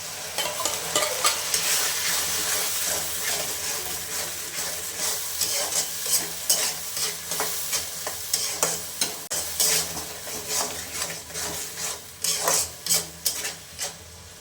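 Onions sizzle in a frying pan as ground tomato paste is added and stirred in, a continuous bright hiss broken by rhythmic scraping strokes that grow more regular and pronounced toward the end.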